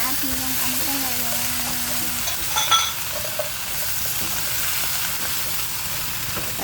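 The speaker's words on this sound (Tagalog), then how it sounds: "Haluin natin yung ampalaya." Bitter gourd (ampalaya) stirred while frying in a pan, with a steady broad sizzle and brief scraping stir sounds near the middle, and a faint voice humming near the start.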